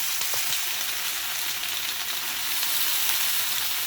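Sweet potato leaves stir-frying in a hot pan, a steady broadband sizzle that holds at an even level throughout, close and continuous with no talk over it.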